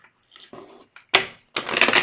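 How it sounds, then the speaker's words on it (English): A deck of tarot cards is shuffled in a few quick riffling bursts, close and crisp, with short pauses between them and no talking. "Two more shuffles."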